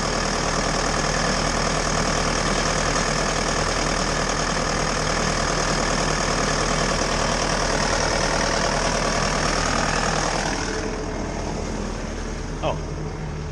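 A Bobcat skid steer engine idles with its AC running, a steady loud drone with a low knocking undertone that drops a little near the end, followed by a short click.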